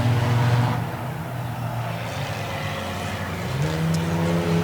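Race cars in a TSS heat race at a dirt track: a loud, sustained engine roar with droning revs that dip and rise as the cars circle, heard close and without talk.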